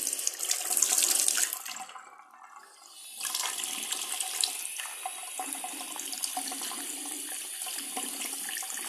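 Water gushes forcefully and uncontrolled from a limescale-clogged faucet, a loud hissing splash that briefly dips before resuming in a steady, strong stream.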